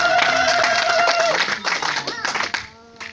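A church congregation claps together in acclamation, a dense burst of rhythmic applause mixed with singing and voices that thins out and fades toward the end.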